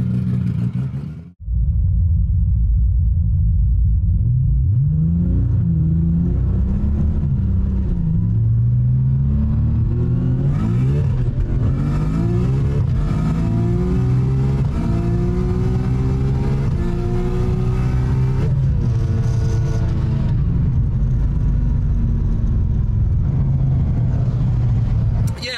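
A 1000hp RB26 engine with its flapper valve open revs hard and loud, rising and falling through long sweeping pulls with a deep rumbling exhaust, close and dominant, with a voice occasionally speaking over it.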